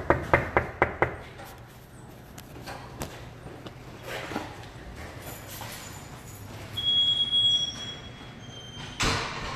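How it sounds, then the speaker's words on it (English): Several quick, sharp raps on a window land in a fast burst of five at the start, followed by quiet ambient rumble with a few faint clicks and a brief tone. "Knock on the window."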